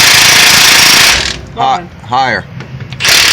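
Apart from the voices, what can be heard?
Milwaukee power tool removing caliper bracket bolts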